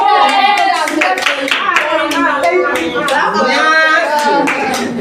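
Schoolchildren in a mathematics classroom clap in a quick run of sharp, loud claps throughout, mixed with children's voices talking over the clapping.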